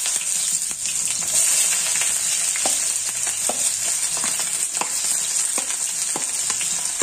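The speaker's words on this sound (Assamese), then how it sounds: "এতিয়া মই তাত দিম মই কাটি লোৱা পিঁয়াজখিনি" Chopped onions hiss and crackle steadily in hot mustard oil, a dense close sizzle broken by occasional sharper pops and spoon clicks, with no voices.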